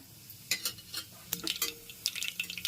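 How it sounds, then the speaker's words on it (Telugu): Hot oil crackles and spits in short bursts as mustard seeds splutter, with sharp pops scattered across the clip, close by and moderately loud, no voices. "ఆవాలు చిట్టుపెట్టలాడాలండి"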